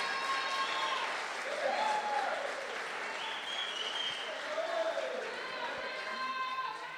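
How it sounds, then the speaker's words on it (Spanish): Audience applause at a race awards ceremony, a steady wash of clapping from a crowd lasting the whole stretch, with voices and chatter mixed in underneath. "Un aplauso"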